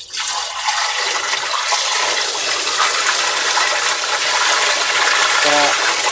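Water poured from a bucket into a newly installed ordinary ceramic toilet bowl, a loud continuous gushing splash that fills the space for several seconds, with a brief voice near the end.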